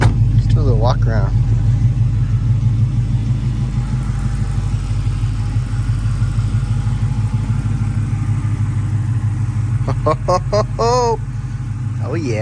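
A B5 Blue Mopar car with a Flowmaster exhaust idles with a loud, steady, deep burble nearby, and a person talks briefly over it near the start and again near the end.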